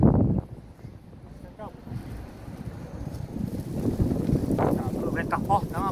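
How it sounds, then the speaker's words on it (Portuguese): Strong wind gusts buffet a microphone at an outdoor kite-flying session, a rough, roaring rush that swells and eases, with people talking over it throughout. "O vento tá fortão, rapaz."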